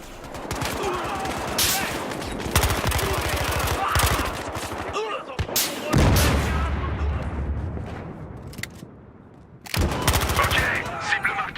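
Dense gunfire in a Battlefield Hardline multiplayer match, rapid bursts and single shots overlapping with booming impacts, loud and close with brief lulls, while someone talks over the action.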